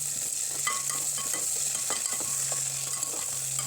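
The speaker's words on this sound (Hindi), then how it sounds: "थोड़ा सा इसको भी हम भून लेंगे 2 मिनट तक" Large-cut potato pieces fry in a pan for egg biryani, a constant close sizzle with a few spatula scrapes and taps against the pan.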